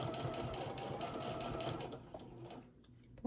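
A sewing machine whirs steadily at close range while stitching a handmade craft bear, its motor humming for about two seconds before slowing and stopping.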